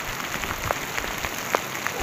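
Hail pelts down on a person in a forest during a metal-detecting outing, a dense, steady patter of small impacts with a few sharper hits standing out.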